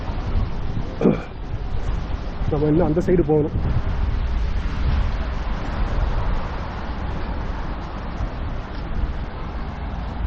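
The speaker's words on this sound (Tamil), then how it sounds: "சில்னஸ் அப்படியே செம்ம ஸ்பீடாக காற்றடிக்குது." Strong cold wind buffets outdoors near a glass pyramid metro station in Baku, roaring low and continuous with gusts, while someone speaks briefly over it near the start.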